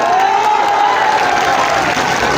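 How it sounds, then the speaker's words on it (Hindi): Loud crowd clapping at an outdoor political rally in Kaimur, Bihar, a dense continuous wash of hands with a faint tonal whine running through it, no voices standing out. "इसके लिए जोरदार ताली बजाओ सब लोग।"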